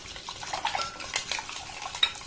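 Semolina being blended into hot milk in a pot, a steady scraping stir with clinks of a spoon against the metal sides and a faint wet bubbling, close and unaccompanied by talk.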